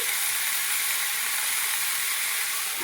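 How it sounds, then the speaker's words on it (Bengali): Egg, cauliflower and potato fry in a covered pan, giving a loud, even hiss of sizzling oil and steam that runs unbroken throughout. "চাপা দেবো চাপা দিয়ে দিয়ে ভেজে নেব ঢাকনাটা দিয়ে দিচ্ছি"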